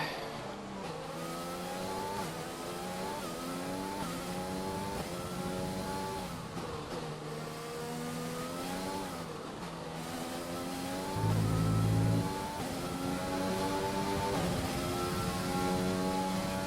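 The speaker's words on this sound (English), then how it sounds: "Box, we're coming in this lap." An F1 car in the F1 2020 game at the Netherlands round slows into the pits, its engine note sweeping down and back up in repeated gear-change steps, a steady close onboard whine with no talking.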